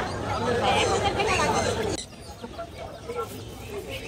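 Chickens clucking amid crowd chatter at a busy weekly Friday poultry and pigeon market, with loud clucking and babble for two seconds that then drops to quieter background noise.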